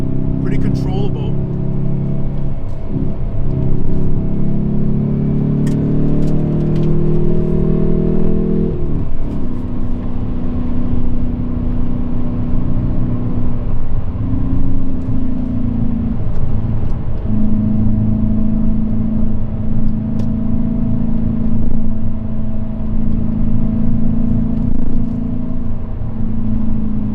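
A 2020 Hyundai Veloster N engine pulls along the Angeles Crest canyon road, a loud droning hum that shifts pitch with a downshift and revs, under ongoing talk from inside the car.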